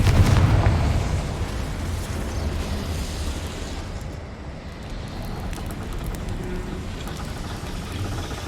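Confringo fire spell blast in the Hogwarts Legacy video game, a loud booming burst at the start that decays into a long rumbling, crackling wash of debris and ambience, no speech.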